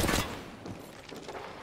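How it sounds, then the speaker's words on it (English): Gunfire rattles in an Apex Legends match, a burst of rapid shots at the start fading into lighter scattered pops and distant reports. "Being shot at."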